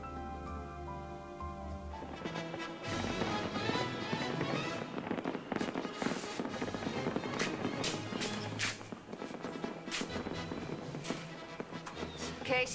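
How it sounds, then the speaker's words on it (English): Fireworks burst repeatedly in a steady crackling, popping barrage at a night celebration, sustained and fairly loud, with an indistinct voice briefly audible at the start. "watching these same fireworks"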